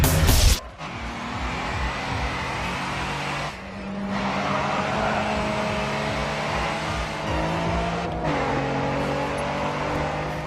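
Race cars in the Grid 2 video game roar steadily at close range, engine tones sustained and shifting pitch, with a sharp burst at the start and brief dips where gears change or cars pass.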